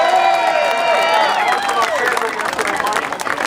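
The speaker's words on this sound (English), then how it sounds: "Let's give a round of applause, guys." Crowd applauding and cheering at an outdoor veterans march rally in Valley Forge Park, a dense burst of clapping with shouts that tapers slightly over a few seconds, no talk over it.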